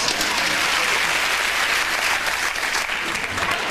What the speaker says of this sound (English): Let's round of applause for that man's brown.